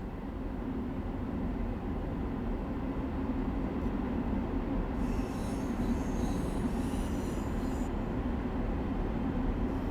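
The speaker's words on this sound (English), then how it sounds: "I hear a train." A Long Island Rail Road commuter train in the Train Sim World 4 game rumbles steadily past for the whole stretch, a dense, continuous roar of wheels on rails with a faint metallic squeal partway through.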